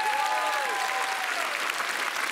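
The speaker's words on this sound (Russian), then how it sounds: "под ваши аплодисменты, если вы не против" Studio audience at a Comedy Club roast clapping in dense, steady applause that fills the room for a couple of seconds.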